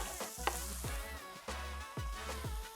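A plain white onion fries in about a tablespoon of hot oil in a pan, giving a steady crackling sizzle with a few stirring scrapes and a low hum underneath.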